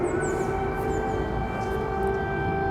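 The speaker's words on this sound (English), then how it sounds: "Air raid sirens went off in the Ukrainian capital twice during Rutte's visit" An air raid siren wails over Kyiv, Ukraine's capital, as one loud, sustained, steady tone under a low rumble, with faint bird chirps above it and no talking.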